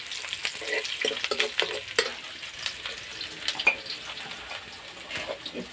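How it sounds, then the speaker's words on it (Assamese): Onion and bay leaves fry in oil in a pan, a continuous close sizzle broken by frequent stirring scrapes and small taps of a spoon. "এতিয়া এইখিনি অলপ ৰঙচুৱাকৈ ভাজি ল'ম"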